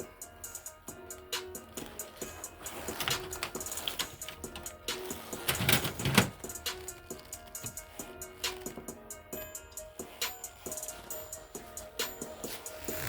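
An inkjet printer runs a print job on transparency film, a steady mechanical clicking and ticking rhythm with whirring carriage passes and a few louder clunks, close and continuous.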